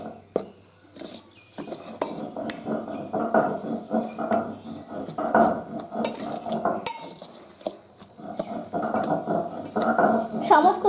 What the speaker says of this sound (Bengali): এবারে সমস্ত উপকরণ আমি একটু এভাবে একটা চামচ দিয়ে মিশিয়ে নিচ্ছি।